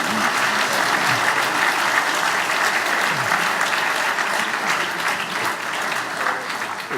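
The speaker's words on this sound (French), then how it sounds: "Voilà, on peut les applaudir, évidemment." A conference audience applauds steadily, a thick continuous sheet of clapping from a large room that holds level and tapers slightly toward the end.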